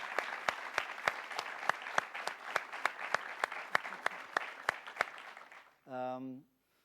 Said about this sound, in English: How about a round of applause for the great